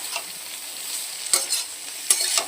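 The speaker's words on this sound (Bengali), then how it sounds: "এবার এর ভেতরে আমি বাঁধাকপিটাকে ঢেলে দেবো বাঁধাকপিটা দিয়ে দিলাম" Shredded cabbage sizzles gently in a pan with peas, potato and tomato, with a few quick scraping stirs of a spoon cutting through the soft, steady frying hiss.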